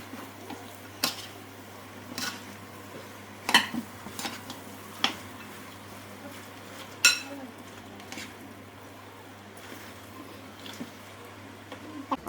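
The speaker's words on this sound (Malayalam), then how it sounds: "കപ്പ നന്നായിട്ടൊന്ന് നമുക്ക് മിക്സാക്കി കൊടുക്കാം." A spoon stirring cooked tapioca into a biryani mixture in a pan, with scattered scrapes and sharp clinks of metal against the pan at irregular intervals over a low, quiet background.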